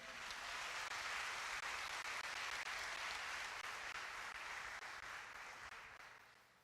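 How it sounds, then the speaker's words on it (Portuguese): A church congregation applauding for Jesus during a sermon, a broad, continuous roar of clapping heard from a distance that swells quickly and fades gently at the close. "Você pode aplaudir a Jesus?"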